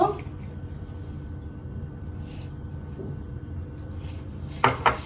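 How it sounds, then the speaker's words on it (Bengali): A spoon scrapes and clinks against a pan while fish curry paste is mixed, quiet steady rubbing with a louder pair of metallic knocks near the end. "এবার এটা আমি ভালো করে মিশিয়ে নেব।"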